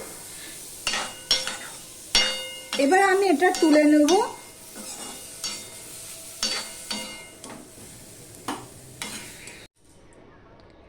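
Broccoli sizzles in a pan on high heat while a spatula scrapes and taps in a steady rhythm; a voice speaks briefly in the middle before the sound cuts off.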